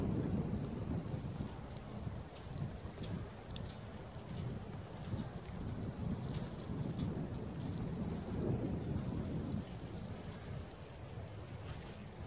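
Steady rain pours down outdoors near a parked Trabant by an airfield in the former Soviet forces zone in Germany, a continuous even wash with faint distant rumbles and scattered drips over the whole stretch.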